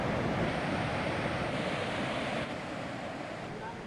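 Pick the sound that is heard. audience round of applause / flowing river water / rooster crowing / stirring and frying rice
flowing river water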